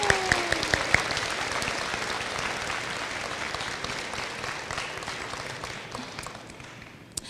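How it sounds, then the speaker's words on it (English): Audience applause at a 2019 senior awards program for graduating high school seniors, a steady dense clapping from a large crowd that holds strong for about seven seconds and then tapers off. "Let's give these students a round of applause."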